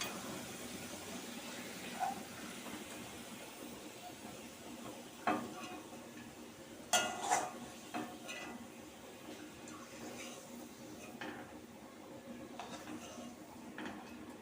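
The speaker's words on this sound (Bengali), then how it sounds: "এখানে আমি দুটো শুকনো লঙ্কা দিয়েছি, দিয়ে এটা ভেজে নিই।" Onion frying with two dried red chillies in a pan for pumpkin kebab, a low steady sizzle with a few sharp clinks and stirring knocks scattered through.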